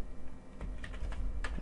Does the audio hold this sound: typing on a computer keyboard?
yes